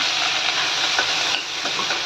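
Fenugreek leaves fry in hot oil in a kadai, giving a loud, steady sizzle with broad hiss and faint crackles throughout, briefly dipping before resuming.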